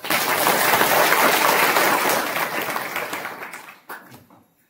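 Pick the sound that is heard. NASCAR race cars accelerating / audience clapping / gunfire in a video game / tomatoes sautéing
audience clapping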